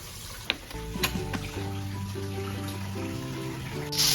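Ground spice paste with ginger, tomato and bay leaf fries in a little oil, giving a steady soft sizzle with a few clinks of stirring, louder near the end.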